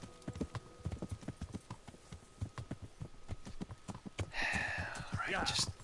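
Horse hooves clip-clop in Kingdom Come: Deliverance, a steady rhythmic trot of close, distinct hoofbeats that carries through the whole stretch, with a louder rushing swell near the end.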